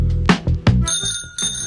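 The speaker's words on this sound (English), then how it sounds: "His bike has a bell." A bicycle bell rings several times, bright and close, with metallic rings that repeat in quick succession and each fade briefly before the next.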